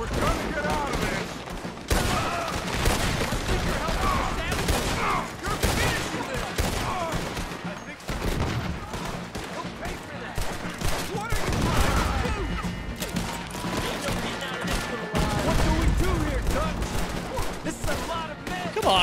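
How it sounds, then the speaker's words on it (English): Revolver gunfire in Red Dead Redemption 2 gives repeated loud, sharp shots cracking in a chaotic firefight. They come in irregular bursts amid other combat noise, with someone talking throughout. "I'm unloading an entire revolver in this motherfucker"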